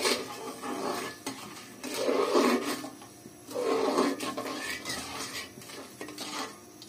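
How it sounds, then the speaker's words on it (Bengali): Sugar, jaggery and cardamom pods being stirred together in a pot, with repeated scraping and rasping strokes of a spoon against metal in uneven bursts, close and alone. "দেখো 4টা এলাচ দিয়ে এখন চিনি গুড় সব একসাথে ভালোভাবে মিক্সড করতে হবে।"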